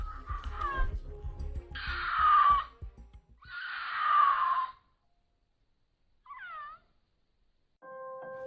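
Two long, harsh, rasping wails from a puma in mating season ring out, each dragging downward, with brief rustling before and a faint chirp later.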